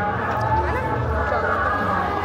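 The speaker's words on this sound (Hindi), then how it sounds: "अब हम आगे जा रहे हैं और भीड़ बहुत है" A dense crowd chatters at the Geeta Jayanti fair by Brahma Sarovar in Kurukshetra. Many voices blend into a steady, close babble with no pauses.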